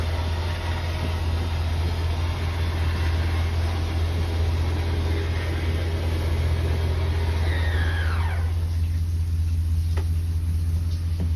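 A Sunseeker RV's engine runs at a steady idle, a constant low hum with a faint whine that fades near the end.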